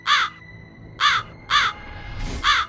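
A crow caws four times in short, evenly spaced bursts, loud and close, with a faint rustle between the last calls, used as a sound effect in a Hindi audio story.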